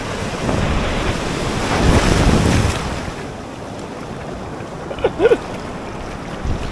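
Ocean waves roll and break on a bodyboarding beach in a steady, loud wash of surf, with heavy wind buffeting the microphone and a brief voice near the end.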